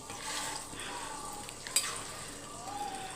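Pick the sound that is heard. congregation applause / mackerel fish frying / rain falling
mackerel fish frying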